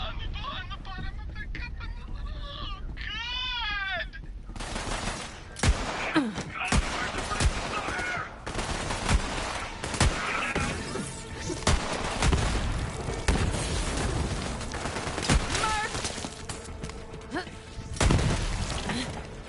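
Rapid gunfire and explosive bursts from the video game Borderlands 3, loud and dense across the clip, with a short quieter stretch of game effects at the start before the shooting kicks in.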